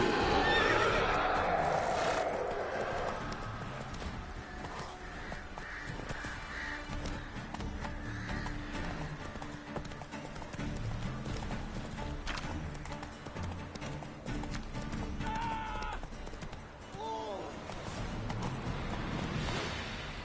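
A horse in The Witcher 3 video game whinnies loudly at the start, then keeps up a steady galloping clip-clop of hooves under game ambience, with faint voices in the background.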